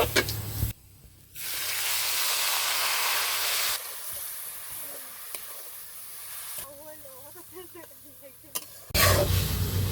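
Chopped onion, cumin and banana flower hiss and sizzle in hot oil in a frying pan, a steady spray of frying noise that fades toward the end while a voice speaks nearby.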